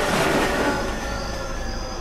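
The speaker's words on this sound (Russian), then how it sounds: "Упал поезд и упал" Train crashing in the Death Park horror video game: a dense, loud roaring rumble with metallic rail screech, steady for about two seconds with no talk.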